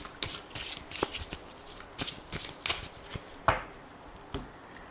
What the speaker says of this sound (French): on va faire un tirage en 9 cartes avec le Lenormand pour voir ce qui va se passer